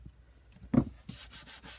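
Cardboard is trimmed while building a small bookshelf, with a few short, close, rough scraping strokes in quick succession and no speech.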